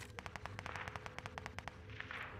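Rapid, evenly spaced gunfire rattles in a fast burst during a Call of Duty Warzone match, heard as distant and faint over low game background noise.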